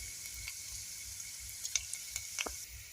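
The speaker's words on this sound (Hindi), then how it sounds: "तो ये लहसुन इसमें मैं डाल रही हूँ और इस लहसुन को भी हल्की सी लाल होने दूंगी।" Garlic cloves frying in hot oil with cumin give a soft, steady sizzle, with a few sharp crackles and pops toward the end. No voices are heard.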